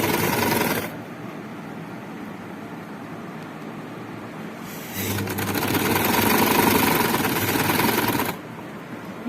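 A sewing machine stitches along the folded edge of a tulip shalwar with a close, steady mechanical whir. It rises into a louder, faster run midway before settling back, and no voices are heard.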